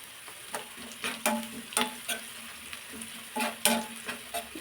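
Onions frying in a spice tempering for vegetable sambar, a soft steady sizzle broken by several sharp spoon-scraping strokes against the pan, close and fairly quiet with no voices.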